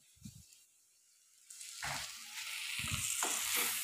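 Curry leaves hit a hot pan partway through, starting a loud, steady sizzle that keeps going to the end, with a few low knocks of stirring close by after a quiet start.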